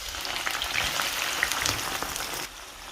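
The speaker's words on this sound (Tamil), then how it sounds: "கட் பண்ணி வச்சுக்கிற வெங்காயத்தையுமே ஃப்ரை பண்ணி எடுக்கிறேன்" Chopped onions frying in hot oil for Sri Lankan brinjal moju make a steady, bright, crackling sizzle close by that suddenly drops away near the end.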